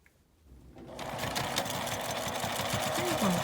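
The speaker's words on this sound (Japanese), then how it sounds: "こちらの表側だけ端ミシンをかけます。" A sewing machine edge-stitches the outer side of a fabric zipper pouch, starting after a brief quiet moment and running in a steady, close, rhythmic whir to the end.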